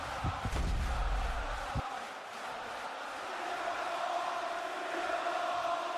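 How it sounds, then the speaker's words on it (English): Wrestling crowd in a video game arena, a loud burst of cheering and booing from the crowd that settles into a steady far-off murmur, with a deep thump early on and no talk over it. "Crowd letting you know how they feel like this was going to go."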